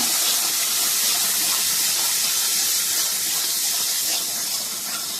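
Cumin, coriander, chili and turmeric fry with onion paste in a pan as they are stirred, making a steady, loud hiss and sizzle that stays even throughout.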